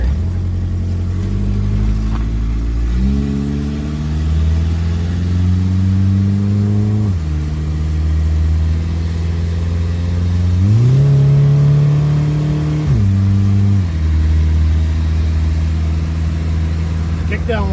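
A Ford Pinto engine revs and accelerates, rising in pitch in several steps, with a transmission kickdown shift, then settles, loud and close, with occasional voices in the background.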